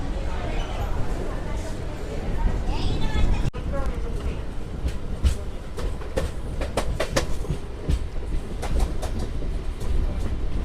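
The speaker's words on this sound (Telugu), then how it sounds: "సో మన ట్రైన్ చేసి గణపూర్ నుంచి అయితే బయలుదేరిపోయింది." MEMU passenger train running after leaving Ghanpur, steady rumble and rattling of the coach heard from inside, with rhythmic clicks of wheels over rail joints and people talking nearby.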